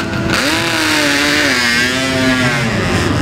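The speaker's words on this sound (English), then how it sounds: "Two-stroke smoke clears, we'll see in the 96, Jason Lamb on his Kawasaki" Two-stroke racing motorcycles at a Classic TT superbike race scream past nearby, with a high, buzzing engine note that rises and falls as they go by, loud and continuous.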